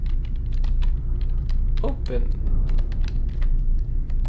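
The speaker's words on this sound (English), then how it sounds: "I'm bad at typing." Fingers tap out bursts of clicks on a computer keyboard, close and uneven, while a person speaks briefly in the middle.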